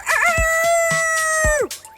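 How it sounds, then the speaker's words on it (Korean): A rooster crows at a large-scale chicken farm, a single long, loud, clear call that holds a steady pitch and then drops away at the end, with a few soft thumps and faint background clucking. "바로 닭 울음소리입니다."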